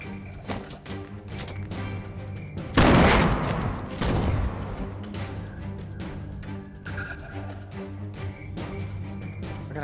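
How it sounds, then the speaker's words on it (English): Fortnite gunfire: sharp FAMAS rifle shots crack in a quick burst with a loud blast near the start, then scattered shots over a steady background drone. "here's some gunshots"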